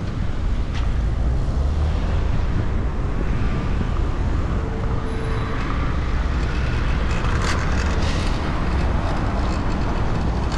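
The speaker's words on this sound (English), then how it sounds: "The wind is a little bit cold." Cold wind buffets the microphone in a continuous low, dense rumble throughout, with faint traffic-like noise behind it and no voices.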